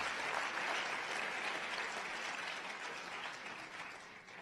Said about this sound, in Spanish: Mejor darle otro aplauso al rey